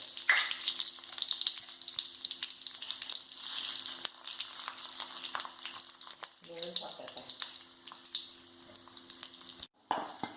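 Mustard seeds splutter in hot oil alongside chillies and curry leaves for a Kerala chena kadala kootu, a continuous crackling sizzle with a short clatter and a brief thump near the end.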